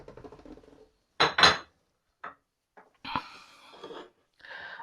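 A spoon scraping and knocking in a bowl while mixing Christmas pudding batter with small chopped apple pieces: intermittent close clinks and scrapes separated by short pauses.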